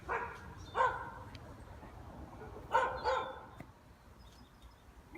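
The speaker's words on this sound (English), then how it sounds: "Some dog over there can see me." A dog barks from some distance outdoors, two short bursts of a couple of barks each, separated by a pause, over a low steady background hum.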